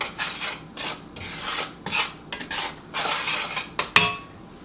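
Spoon scraping and rasping around a pan as cocoa is mixed for chocolate gravy, short strokes repeated in an uneven rhythm with a sharper clink near the end, close and fairly quiet with no talking.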